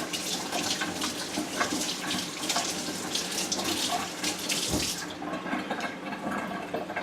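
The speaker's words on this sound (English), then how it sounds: "I'm just going to give this a little rinse here." Water runs steadily from a kitchen tap while something is rinsed beneath it during bread-making, a continuous splashing hiss that cuts off abruptly near the end.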